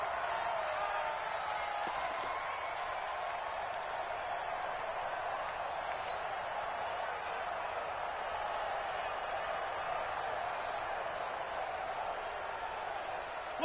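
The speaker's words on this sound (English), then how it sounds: "The crowd here in the Dome making things difficult" Dense, steady stadium crowd roar fills a domed arena during a Madden football video game, a continuous wash of distant voices and faint scattered claps holding at an even level throughout with no commentary over it.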